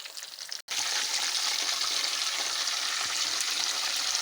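Chicken chargha frying in a pan gives a steady, bright hiss and crackle of hot oil, close and even throughout after a brief break near the start, with no talking.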